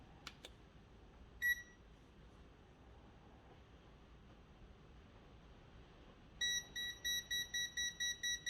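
A TopTes handheld gas detector beeps while testing for gas leaks: a couple of faint clicks and one short beep early on, then a quick run of about ten evenly spaced high-pitched beeps near the end, in a quiet room.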